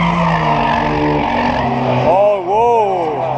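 Drag racing cars, a small Honda against a Camaro, run hard at full throttle with loud, close engines. The pitch sweeps up and down as the gears shift, and people talk over it.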